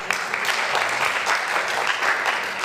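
Steady audience applause fills the whole stretch, a dense, loud wash of many hands clapping with no voices over it.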